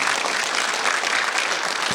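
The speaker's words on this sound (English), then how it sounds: "You can applaud that if you like." Loud, dense applause from a conference audience fills the hall during a fireside chat, a continuous close wash of many hands clapping with no speech over it.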